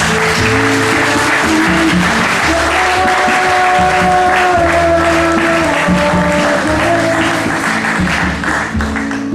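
A church congregation applauds and cheers in praise, sustained clapping throughout with sung or called voices and tones layered over the crowd.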